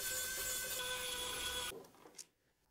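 A powered screwdriver whirs steadily while backing out the two screws that hold the heatsink on a motherboard during a PC build. The whir stops abruptly, leaving quiet and one short click.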